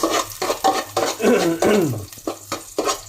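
Garlic fries in a hot pan while being stirred, a loud, close sizzle broken into regular scraping bursts as the utensil moves through it.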